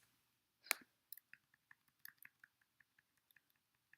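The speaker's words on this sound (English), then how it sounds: "You can hear me click my little keyboard." Small computer keyboard keys being tapped one at a time, mostly arrow keys, giving a string of soft, close, irregularly spaced clicks with no talking over them.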